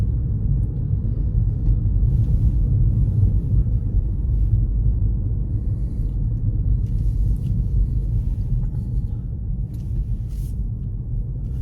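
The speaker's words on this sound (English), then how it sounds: "now I'm driving literally right alongside Empower Field right now" Car driving through Denver past the Empower Field football stadium, heard from inside the cabin as a steady, loud, low road rumble that holds unbroken throughout, with no talking.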